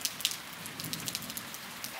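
Steady rain falling outdoors on the island of Crete, a soft continuous patter with scattered individual drops ticking on nearby surfaces, fairly faint and with no voices.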